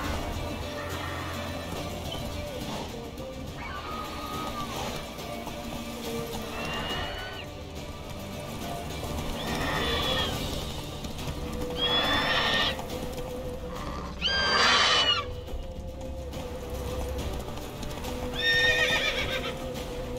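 Roach, a horse in The Witcher 3 video game, whinnies several times over a steady galloping clip-clop, with loud neighs standing out near the middle and the end.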